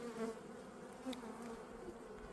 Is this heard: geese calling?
no